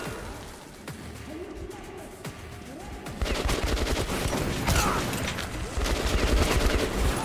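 Rapid gunfire in the video game Overwatch, starting with scattered shots and then breaking into dense, sustained automatic bursts that grow louder and more continuous toward the end.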